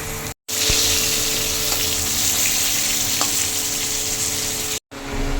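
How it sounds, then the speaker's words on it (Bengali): Pointed gourd (potol) frying in oil with a pinch of turmeric and salt, giving a loud, steady sizzle that runs continuously, broken by two very short gaps, with occasional stirring clicks. "পটলগুলোও হালকা করে একটু ভেজে নেব।"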